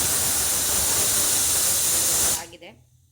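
A pressure cooker cooking menthe bath on a kitchen stove gives off a loud, steady hissing steam whistle that ends abruptly after a couple of seconds, leaving a quiet background.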